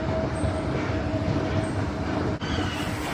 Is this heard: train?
yes